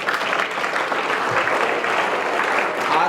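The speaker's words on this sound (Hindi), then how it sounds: "ताली बजा बच्चे के लिए बात" Dense, steady applause fills the room as the audience at a Brahma Kumaris spiritual lecture claps for a child, loud and continuous throughout with no voices standing out.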